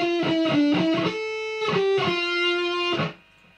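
A distorted electric guitar plays a short second-part riff of quick picked notes followed by longer held tones, then the final note cuts off into near silence, heard alone.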